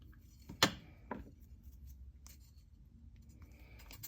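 Fine jewelry wire for a wire-wrapped leaf pendant is snipped with a cutter, giving one crisp, close click, then a second softer snip and faint handling rustle in a quiet room.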